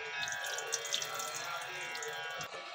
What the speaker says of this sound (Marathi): आता चिकन छान 2 पाण्याने धुवून घेऊ।